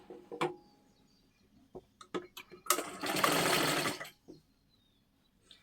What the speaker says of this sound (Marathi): आता ह्याच्यावरती अजून एक आपल्याला डबल शिलाई मारून घ्यायची आहे